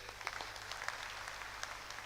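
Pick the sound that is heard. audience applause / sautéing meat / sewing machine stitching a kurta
audience applause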